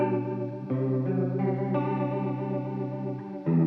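Guitar through a TC Electronic Corona Chorus pedal with its high cut rolled fully down gives dark, muffled chorused chords with the treble gone, several sustained strums that change every half second or so, played alone.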